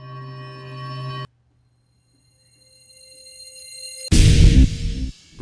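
Sustained bell tones ring, cut off abruptly, then a reversed swell rises from silence and builds into a loud burst that ends suddenly.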